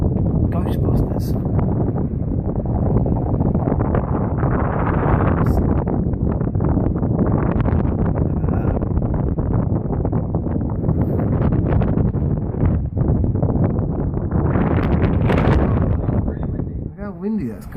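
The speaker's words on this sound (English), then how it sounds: "How windy that's got." Sudden high winds from a storm front over Dover, Kent, roar steadily and loudly across the microphone with gusty buffeting throughout, while people talk over it.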